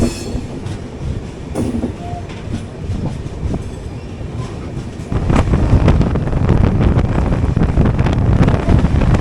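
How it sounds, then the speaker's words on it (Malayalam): East Coast Express from Hyderabad to Calcutta passing near Bonakalu station, a loud rush of rolling wheels and rhythmic clickety-clack with wind buffeting, growing heavier midway as the coaches thunder by close. "ഹൈദരാബാദ് ടു കാൽക്കട്ട പോകുന്ന ഈസ്റ്റ് കോസ്റ്റ് എക്സ്പ്രസ് ആയിരുന്നു"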